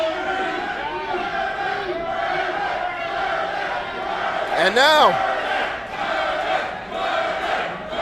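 Wrestling crowd at London Music Hall during a steel cage championship match, a loud sustained roar of chanting voices with a rising whoop near the middle, a commentator's voice briefly over it.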